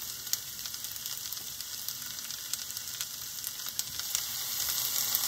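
Stir-fried noodles browning in a hot pan give a steady, dense sizzle and crackle that builds slightly louder toward the end, with no voices over it.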